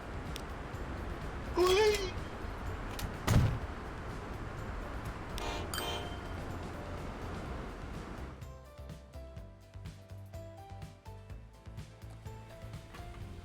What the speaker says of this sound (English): Just run a short local food train.